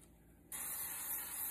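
Cooking spray hissing from a can onto slices of bread, starting suddenly after a short quiet moment and then holding as a steady, close, continuous spray, with no talking.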